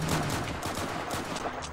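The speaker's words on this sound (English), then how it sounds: "It's gunfire." Rapid automatic gunfire in a VR PvP video game, a dense rattling burst of close, loud shots repeating quickly throughout without pause.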